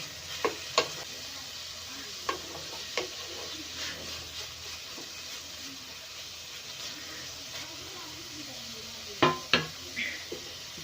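Shredded cabbage stir-frying over a high flame for noodles, a steady low sizzle broken by sharp metallic clanks and scrapes of a spatula against the pan, several grouped near the start and end.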